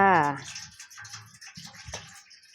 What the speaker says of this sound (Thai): ก็เทน้ำสะอาดลงค่ะ เพื่อที่จะ ต้มแซ่บนะคะ รอบที่สองค่ะ